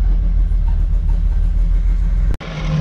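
An engine idling with its ECU ignition timing set to 15 degrees, a steady loud low rumbling drone that cuts out abruptly near the end before resuming.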